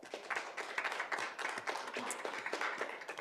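An audience at a school governing board meeting applauds a high school's 5A football state championship team. The clapping is lively and fairly light, a scattered patter from a modest crowd that holds steady throughout.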